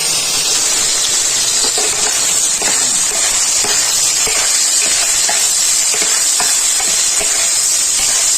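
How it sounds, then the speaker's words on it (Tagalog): A pan of pakbet, a Filipino vegetable dish, being stirred as it cooks, with a steady loud sizzle and hiss and faint scraping from the stirring. "Haluin po muna natin yung ating pinipinto."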